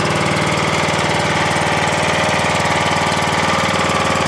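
An entry-level racer's small engine runs with its factory muffler, a close, loud, steady buzzing idle with an even rapid pulse throughout and no talk.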